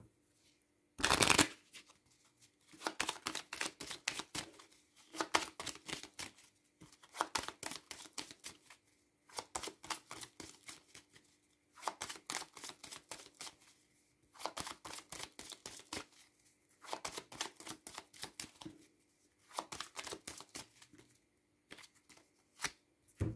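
Cartomancy cards being shuffled and laid down, heard as repeated close, crisp riffling bursts of a few seconds each, separated by short pauses, after one sharp slap near the start; soft and quiet overall.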